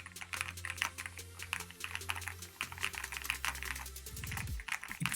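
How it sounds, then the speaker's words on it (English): Rapid keystrokes clatter on an Ajazz mechanical keyboard in a steady, close, moderately loud typing rhythm, with a low background hum that drops away near the end and no voices. "let's see how it actually feels typing on this keyboard"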